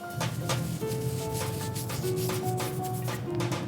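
Gritty, sandy rubbing of semolina flour in quick repeated strokes, close and fairly quiet, with no talking.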